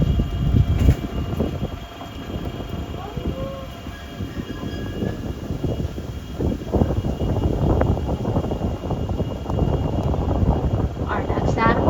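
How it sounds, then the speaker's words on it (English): A monorail train at the Bronx Zoo rumbles past with a low, continuous rolling noise and faint squeals, while a voice talks over it. "There's also another train going out."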